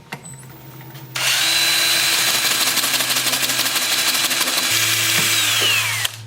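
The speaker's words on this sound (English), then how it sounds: "I'm going to start the sanding with my Sandoflex" A Sandoflex sander works a live-edge mulberry wood bowl at 180 grit on a lathe, starting after a quiet second and then running as a loud, steady, whirring drone with some buzzing until it cuts off near the end.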